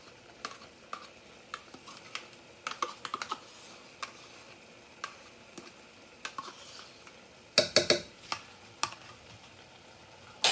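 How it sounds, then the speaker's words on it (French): Natural yogurt gets stirred into biryani ingredients in a pan, giving scattered light scrapes and taps over a faint sizzle, with a louder burst of clattering stirring partway through. "نخلط الزبادي تاعنا جيدا مع المكونات الأخرى."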